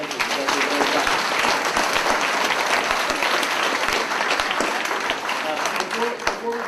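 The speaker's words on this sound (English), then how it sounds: "Give another round of applause for the presenters." An audience in a school auditorium breaks into loud, sustained applause for eighth-grade presenters, many hands clapping together for several seconds before it begins to taper.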